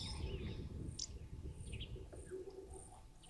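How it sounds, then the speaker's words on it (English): Brown-headed parrots nesting nearby, their sharp squawks and chirps sounding intermittently at a moderate distance over a steady outdoor background hum. "You'll also hear those brown-headed parrots that are nesting around here."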